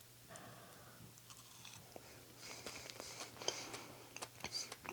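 Quiet chewing and biting of a no-bake keto chocolate peanut butter pie with a firm top layer, soft crunchy mouth sounds rising toward the end, close and faint with low background hum.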